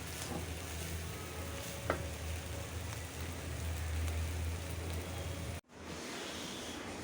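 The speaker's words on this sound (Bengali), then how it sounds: "আমি পোলাওটা রাইস কুকারে করব, তাই কড়াইতে চালটা ভাইজে নিলাম।" Rice for pulao is fried in a karai. A steady, quiet sizzle with a light rustle of stirring runs throughout, and the sound briefly cuts out near the end.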